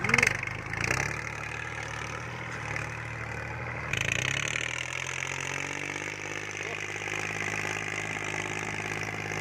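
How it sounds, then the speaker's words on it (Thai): A Kubota L4018 diesel tractor engine idles steadily up close, a low rumbling drone that shifts slightly in pitch partway through. "ฟังเสียงรถไถก็พอ"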